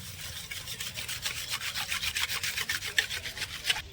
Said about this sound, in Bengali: এই দুধের মধ্যে আমি গুড়টা নিয়ে নেব ভালো করে নেড়ে ছেড়ে মিশিয়ে নেব